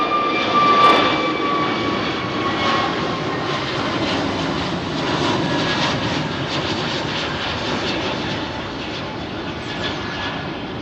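A loud, continuous jet roar comes from a Neo-variant airliner departing Heathrow's runway 27R, close and sustained throughout with a thin whine riding above the rumble, no voices.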